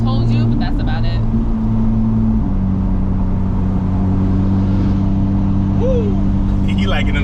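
A Porsche GT3 RS engine drones steadily from inside the cabin while driving, a loud low hum with a rising tone near the end. Voices are faintly present beneath it.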